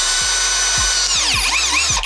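A Redverg cordless drill with drilling, screwdriving and hammer modes runs loud and close, its whine bending up and down in pitch over a regular ticking clatter from the mechanism.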